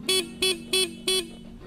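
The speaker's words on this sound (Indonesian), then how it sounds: "Ini klakson." The horn on a Sur-Ron Black Edition electric motorbike gives four short, bright beeps in quick succession, loud and close, with a faint hum underneath.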